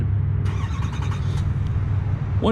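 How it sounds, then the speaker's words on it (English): A 2021 Chevy Silverado 2500HD Duramax diesel pickup starts by remote, turning over and settling into a steady low idle, with a quick chirp of a horn near the end. "That way you know the truck has started."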